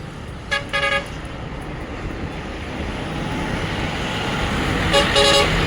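A four-wheeler passes on a road, honking twice in short bursts of toots a few seconds apart, while the engine and tyre noise swells steadily louder as it approaches.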